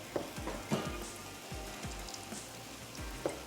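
Kofte frying in a pan until golden, with a close, steady sizzle and a few soft stirring knocks and scrapes at irregular intervals.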